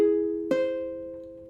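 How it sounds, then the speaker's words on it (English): Augmented triad in root position, a soft, clear held tone joined by a second bright note struck about halfway through, both ringing and slowly fading in a quiet room with no talking. "Now an augmented triad in root position sounds like this."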